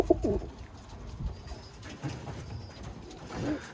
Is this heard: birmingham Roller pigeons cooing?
yes